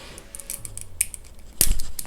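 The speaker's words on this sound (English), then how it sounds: "you can hear the clicking sound, right?" A few small plastic clicks in quiet surroundings, with one sharper, louder snap near the end as a toy weapon piece locks into the hand of an SH Figuarts Iron Man figure.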